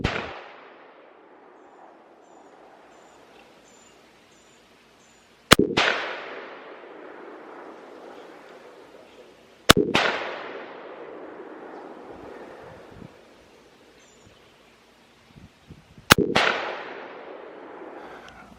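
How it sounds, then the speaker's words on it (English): Four loud, sharp rifle shots from a CMMG Banshee chambered in 7.62x39, fired while sighting in at a target, spaced several seconds apart, each ringing out with a long fading echo and nothing else in between. "let's put 3 more shots and see if we can punch that center bullseye out"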